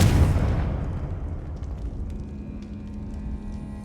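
A Confringo spell blast in Hogwarts Legacy bursts as a loud, close explosion with a booming low rumble that decays over a few seconds into a faint ringing tail.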